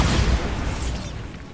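A Bombarda blasting spell goes off in Hogwarts Legacy, a single loud booming burst with a rumbling low tail that slowly fades over about a second and a half.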